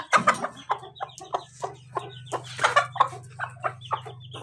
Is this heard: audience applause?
no